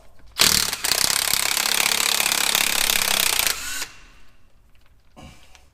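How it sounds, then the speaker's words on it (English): A power tool spins nuts off a dump truck wheel hub in a loud, continuous burst of rattling impact hammering lasting about three seconds, then cuts off to quiet shop ambience with a faint clink. "we're just going to whiz these nuts off"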